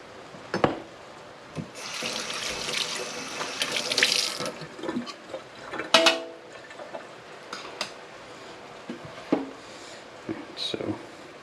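Liquid from cooked chili meat drained into a kitchen sink, splashing and trickling in uneven bursts with clattering of the pan and utensils, close and moderately loud throughout.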